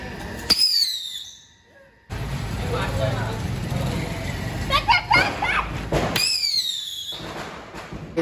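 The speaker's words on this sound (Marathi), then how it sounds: "मैदानातून फटाके फोडून" Diwali firecrackers burst outdoors on an open ground amid crowd noise and children's voices, with sharp cracks and whistling rocket-like sweeps near the start and end over steady background commotion and traffic.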